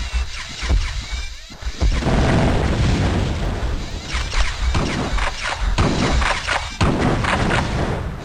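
Grenade blasts in The Terminator: Future Shock video game, loud booming bursts and crashing rumble filling the whole stretch with heavy thuds rising and falling.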